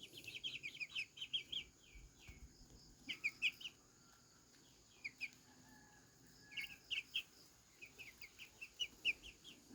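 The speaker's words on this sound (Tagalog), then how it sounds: "Mabait na mga manok dito." Chickens around a yard, with repeated short clucks and chirps in loose bursts through the whole stretch, moderately close but fairly soft.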